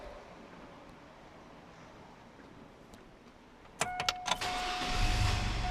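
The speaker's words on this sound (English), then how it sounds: "Turn the vehicle back on." A few sharp clicks, then a GM truck engine cranks and settles into a low, steady rumble while a constant electronic chime tone sounds over it.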